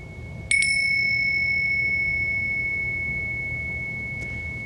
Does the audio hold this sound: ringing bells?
yes